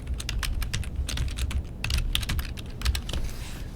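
Fast, uneven keystrokes clatter on a computer keyboard in a quiet room, close and clear, with no voices, during PowerPoint and Word practice on a computer.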